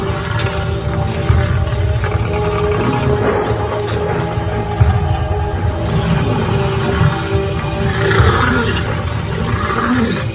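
A lion in the wild roars and snarls in deep, rumbling bursts during a dominance display against rival males, loud and close, with growling swells throughout and no voices.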